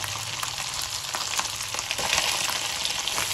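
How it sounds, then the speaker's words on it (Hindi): Tomato added to a pan of fried garlic and ginger, sizzling loudly and steadily close by, with a few scrapes and stirs breaking through the hiss and the sizzle swelling slightly toward the end. "अब इसमें मैं टमाटर शामिल कर देती हूँ"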